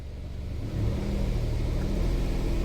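A Kia Ray light car's engine revs up and then holds a steady drone, capped at 1700 rpm during a test for engine and transmission shudder and slipping, close and loud with no talk.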